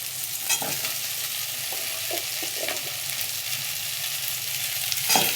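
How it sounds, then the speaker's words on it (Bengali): Vegetable stalks sizzle and crackle in a hot pan, a steady close frying hiss with a few clinks of a spatula stirring. "ডাঁটাটাকেও একটু ভাজবো।"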